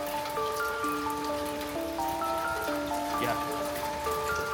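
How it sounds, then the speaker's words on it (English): Steady rain falls on a gloomy day, a constant even patter with dense drops hitting surfaces, heard alone without voices, while soft sustained tones hum beneath it. "So it's gonna be one of those rainy, gloomy days"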